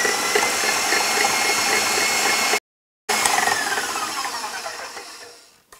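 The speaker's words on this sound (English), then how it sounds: "Now I'm gonna mix this in the KitchenAid." A KitchenAid stand mixer whirs steadily while mixing cookie dough with firmly packed brown sugar, a close, even motor hum broken by a brief gap, then fading as it winds down.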